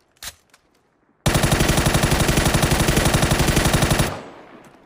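Automatic gunfire in PUBG rattles off as one long rapid burst of evenly spaced loud shots lasting about three seconds, preceded by a couple of isolated sharp bangs.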